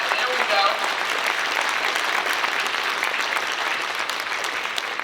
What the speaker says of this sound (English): let's give this celebration a round of applause tonight